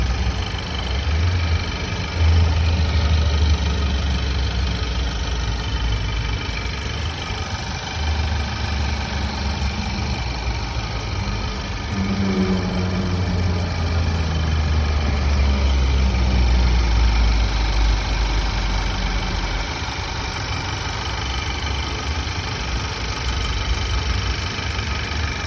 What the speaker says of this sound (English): this will give you the idea of how clean the engine is and how it sounds